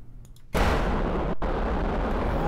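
A missile fires in Kerbal Space Program: a sudden loud blast of launch, then a sustained, dense roar of rocket thrust that carries on unbroken after a short break.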